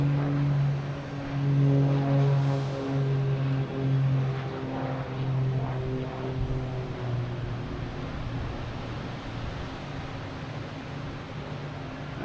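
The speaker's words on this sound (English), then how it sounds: "We have the Cape Air special livery taking off" A Cape Air propeller plane in special livery takes off at Boston Logan Airport, its steady engine drone loud and close at first, then slowly fading as it climbs away.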